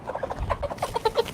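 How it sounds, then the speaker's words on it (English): A golden sex-linked chicken, a Rhode Island Red and Rhode Island White cross, gives a quick run of close, soft clucks in an uneven rhythm. "golden sex-linked chickens. They are a crossbreed between the Rhode Island Red and the Rhode Island White."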